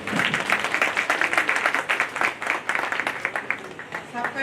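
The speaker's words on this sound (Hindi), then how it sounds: "तो आप सबों के जोरदार तालियों के बीच हैंड ओवर करता हूं" An audience breaks into hearty, continuous applause to welcome a speaker at a recognition event in Chaibasa, the clapping dense and steady throughout.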